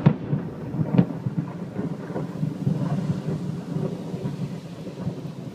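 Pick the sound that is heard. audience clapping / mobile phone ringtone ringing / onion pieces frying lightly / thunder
thunder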